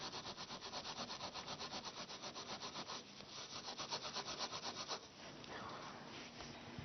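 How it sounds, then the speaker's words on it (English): Wire wool scrubbing a copper coin clean, a steady close rhythm of quick rasping strokes, faint and continuous with no voices. "I'm going to use some wire wool to clean the copper coin off."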